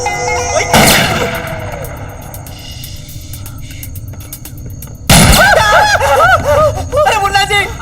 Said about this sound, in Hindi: आप हम पे क्यों गोली चला रहे हैं?